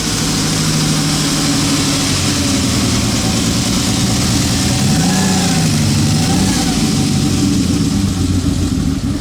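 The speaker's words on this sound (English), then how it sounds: "doesn't that sound fresh? V12 power, hard to beat." A Ferrari V12 engine idles with a steady deep hum, briefly swelling as the revs rise and fall, loud and close throughout.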